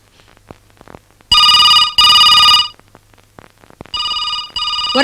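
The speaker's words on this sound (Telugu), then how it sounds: "ఫోన్ మోగుతుంది" A telephone rings in a home in a movie scene: two long electronic ring bursts, a pause, then two shorter bursts, loud and close with faint background sounds between rings.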